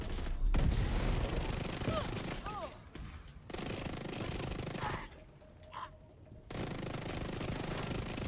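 Rapid submachine-gun bursts from the video game The Division 2 come in long sustained volleys with brief pauses between them, loud and close, with in-game effects mixed in.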